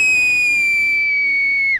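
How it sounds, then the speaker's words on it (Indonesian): A single long, loud whistle from the traditional whistled language of Kuşköy villagers, a clear sustained pitch that drifts slightly downward before cutting off sharply. "hampir 1000 penduduk yang menghuni desa ini berkomunikasi dengan siulan"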